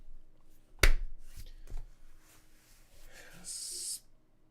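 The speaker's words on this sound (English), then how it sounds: "Clap sync video 2, 3," A single sharp hand clap for syncing video, loud and close, stands out against quiet room tone, followed by faint shuffling and a brief hiss near the end.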